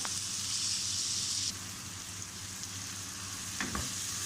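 Masala with tomatoes sizzling and frying in a pan for a boiled-meat dish, a steady, close hiss of oil throughout with a few stirring clatters near the end, no talk.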